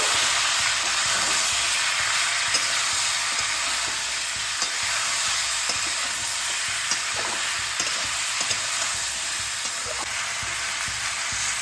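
Jujube pickle being stirred in a pan, a loud continuous hissing sizzle with frequent small scraping ticks from the stirring, close and unbroken throughout.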